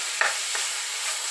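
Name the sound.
ground beef burger meat frying in a pan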